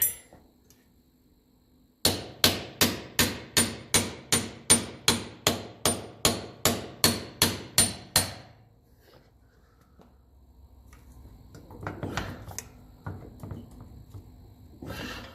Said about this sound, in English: Out with the punch, and you hear that little ding.